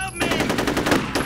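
Rapid automatic gunfire from the video game F.E.A.R., a loud, close burst of closely spaced shots with no talk over it.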